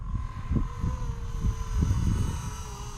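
A Blade 230S radio-controlled helicopter flies nearby, its rotor whine holding a steady tone while the motor pitch rises and falls through turns, with wind buffeting the microphone throughout.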